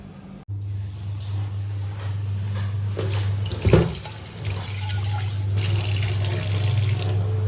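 Water runs from a tap at a house, starting abruptly and splashing loudly at close range into a basin, with a brief louder gush partway through, then a steady flow.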